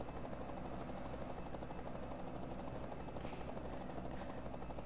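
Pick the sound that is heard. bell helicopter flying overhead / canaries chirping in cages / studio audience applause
bell helicopter flying overhead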